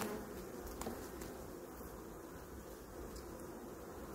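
A strong honeybee colony buzzing inside an open hive during a swarm inspection, a dense, steady drone holding level throughout with no talking.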